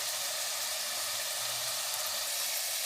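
Mutton and bottle gourd sizzle steadily in a cooking pot as they fry, a continuous bright hiss that stays even and close throughout, with no voices.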